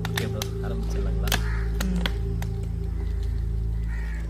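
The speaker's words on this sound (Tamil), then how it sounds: "அந்த பறவைகள்லாம் அப்படியே ரவுண்ட் அப் பண்ணிட்டு எங்களை மேலே இருந்து" Birds circle overhead at a cremation ground at midnight, giving scattered crow-like caws with sharp clicks and snaps over a steady low hum.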